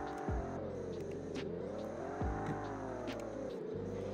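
An Alfa Romeo Giulia Quadrifoglio driven in a video game sends out a steady, sustained engine drone with shifting revs and brief dips, with no talking over it.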